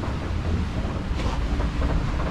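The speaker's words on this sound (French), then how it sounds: "au ressenti, on doit avoir une trentaine de nœuds de vent" Strong wind of about thirty knots roars steadily over open sea aboard a sailboat, buffeting the microphone with a constant low rumble and rushing hiss.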